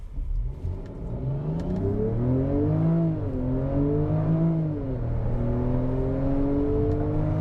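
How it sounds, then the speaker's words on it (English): A 2021 Jaguar F-Pace R-Dynamic S heard from the cabin as it accelerates, its exhaust rising in a smooth, loud drone through the gears, easing briefly, then settling into a steady hum. "I like that classic Jaguar exhaust note"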